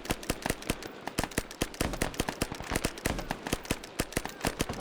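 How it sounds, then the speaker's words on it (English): A MAC-10 on fully automatic in the video game SOG fires long, rapid bursts of sharp, evenly spaced shots, loud and close, with a couple of brief pauses. "The fully automatic setting is really quick on this MAC-10."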